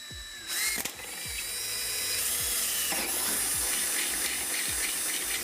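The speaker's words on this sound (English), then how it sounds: "So let's drill the hole right here." A power drill whines steadily through a hole in a car bumper for quick latch fasteners at close range, its pitch shifting as the bit bites, with a few brief clicks and knocks underneath.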